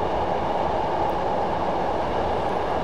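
A Class 421 electric multiple unit runs along the Brighton to London Victoria line in Train Simulator 2015, giving a continuous, loud rumbling roar of wheels and carriages with no break, heard alone.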